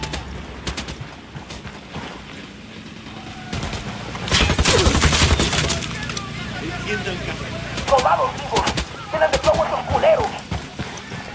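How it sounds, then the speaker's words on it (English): Gunfire rattles in the video game Ghost Recon Wildlands, with loud bursts in the middle and scattered shots later, set under game voices and ambient noise. "Opening fire."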